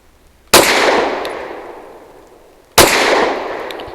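Two loud, sharp Grand Power Q100 Mk23 pistol shots about two seconds apart, each trailing off in a long reverberant echo.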